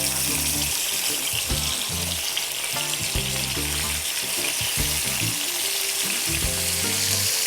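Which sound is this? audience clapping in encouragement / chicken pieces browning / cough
chicken pieces browning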